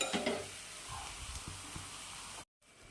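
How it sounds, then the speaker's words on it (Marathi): Green chili thecha with garlic sizzles softly in a pan over low gas, with occasional stirring scrapes, quiet and close with no voices, cut briefly by a short silent gap near the end. "आता याला थोडंसं आणखी स्लो गॅसवर आपल्याला परतून घ्यायचं आहे ठेचाला"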